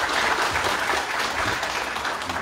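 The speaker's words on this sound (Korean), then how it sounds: "내려가실 때 다시 한번 큰 박수 부탁드립니다." A lecture hall crowd at a political academy talk bursts into loud, continuous applause, a thick wash of many hands clapping close and steady throughout, with no speech over it.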